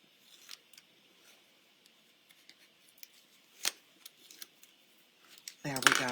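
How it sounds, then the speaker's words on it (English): Tear and tape backing is peeled from a card in quiet, scattered crinkles and small ticks, ending in a brief burst of louder rustling close by. "So I'm going to take my tear and tape off."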